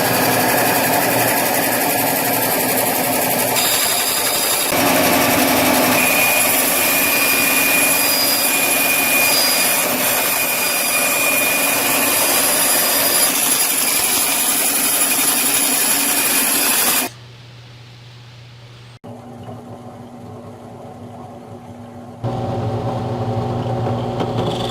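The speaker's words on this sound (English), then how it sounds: "Alright, we're just drilling our pilot holes all the way through." A drill bores pilot holes through a hardwood backer plate for a scissor holder, a loud steady whine that runs without a break for about seventeen seconds and then cuts off, leaving quieter background sound.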